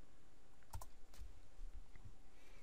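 Soft computer keyboard typing of a project name, a handful of light, uneven clicks close by with no talking.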